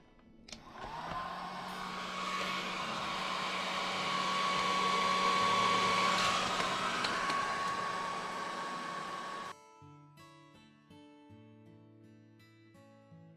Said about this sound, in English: it was written that it would be warmed with a dryer